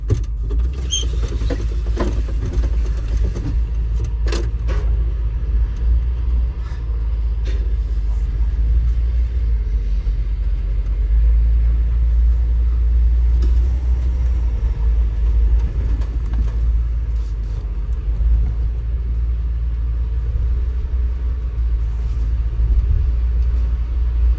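Cummins KT 19-litre diesel engine in a Kenworth truck, heard as a deep steady rumbling idle with a constant low drone, continuous throughout, with a few faint clicks and knocks early on.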